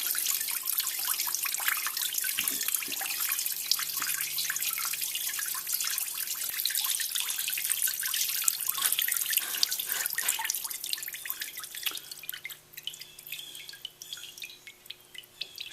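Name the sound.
gasoline draining from engine crankcase into container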